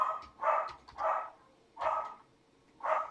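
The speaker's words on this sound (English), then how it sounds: "the dogs are getting excited" Several dogs bark from a distance indoors, four separate excited barks spaced about half a second to a second apart, fairly faint against a quiet room.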